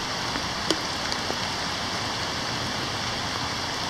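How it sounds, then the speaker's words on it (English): A swollen creek, normally a trickle, rushing fast like a river: a steady, broadband wash of water noise, close and continuous, with no voices. "look how fast that water's moving. I mean, that's a lot of water. That looks like a river."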